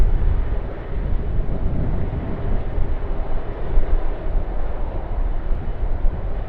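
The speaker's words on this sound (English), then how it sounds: "Qantas Airbus A330-300 also coming down to runway 25." A Qantas Airbus A330-300 lands on runway 25 at Sydney Airport, a steady, heavy roar of jet engines and rushing air holding at an even level throughout with no talking.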